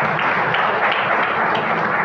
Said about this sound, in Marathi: ज्यांना आवडले त्यांनी जोरात टाळ्या वाजवायचे